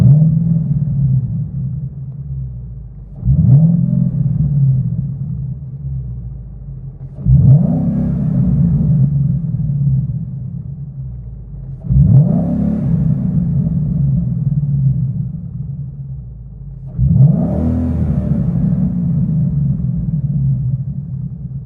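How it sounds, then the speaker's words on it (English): A 2014 Ford Mustang GT engine revs up from inside the cabin four times at steady intervals, each rise sharp then settling back to a low idle rumble. "Then here's some interior revs."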